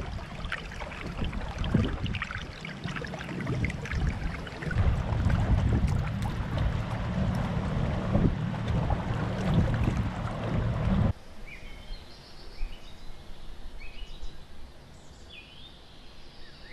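A boat moving slowly on Lake Tisza while fish fry are released, with a steady close rumble and splashing water that cuts off partway, leaving a quiet calm stretch with faint chirps.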